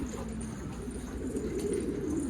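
Pigeons coo softly and continuously at close range, a low throaty burbling held steady across the whole moment with no voices.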